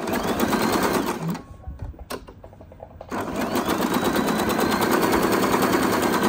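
An electric sewing machine stitches along a fabric fall in rapid, steady mechanical chatter, stopping for about two seconds before running again just as loudly and close up.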